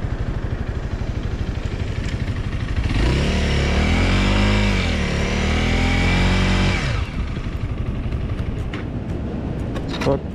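Honda CRF motorcycle ridden on beach sand: a low idle steps up into a loud revving engine held for several seconds with pitch rising and falling as it struggles, then drops back to a steady idle.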